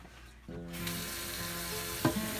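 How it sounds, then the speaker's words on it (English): Raw rice being washed and polished in a pot for Hawaiian-style rice, with a steady watery rustle of grains and water that swells after a quiet start, plus a sharper splash or knock near the end. "this is just washing the rice"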